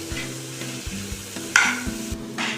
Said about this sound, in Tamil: ஆனியனை நல்லா ஃபுல்லாக போட்டுட்டு கொஞ்சோண்டு கல்லுப்பு போட்டிங்கன்னா